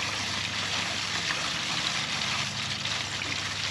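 Water rushes and gurgles up a tube into an RV grey water tank during unclogging with a flushing tool, a steady, fairly faint hiss-like flow with no break and no talk.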